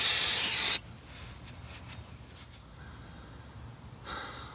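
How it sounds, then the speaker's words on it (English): A can of brake cleaner sprays in a loud, steady hiss onto a 1996 Jeep XJ brake caliper for under a second, then cuts off, followed by quiet room noise and a few faint clicks. "a little more brake cleaner."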